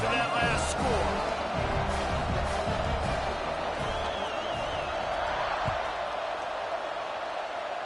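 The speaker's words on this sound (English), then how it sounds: "this crowd is buzzing after that last score" Football stadium crowd keeps up a steady broad buzz after a touchdown, distant and sustained with scattered whoops, under a play-by-play announcer's commentary.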